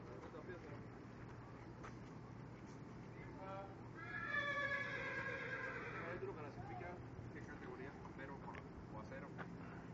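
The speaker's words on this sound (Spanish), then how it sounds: "Un relincho más" A horse neighs, a loud rising and falling whinny of about two seconds near the middle, set against steady background noise and speech, with faint hoof clip-clop nearby.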